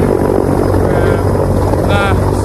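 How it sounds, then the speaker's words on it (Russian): Heavy Mi-26T helicopter airborne with a second Mi-26 slung beneath it, a steady, loud, close rotor drone and engine roar throughout, with a brief higher whine partway through. "на сцепке привез другой такой же вертолет."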